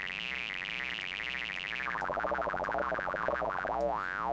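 A synth component on an HTML5 canvas sounds a sustained electronic tone that warbles and sweeps up and down in pitch, with a wobbling vibrato that grows faster toward the end; faint and alone.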